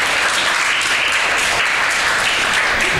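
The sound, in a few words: applause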